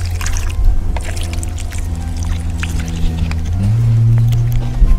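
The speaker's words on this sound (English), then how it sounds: "And then of course, go ahead and give the plant some water." Water is poured onto a freshly transplanted golden apple seedling in its pot, a close, loud, steady gurgling splash whose pitch rises toward the end as the flow fills the soil.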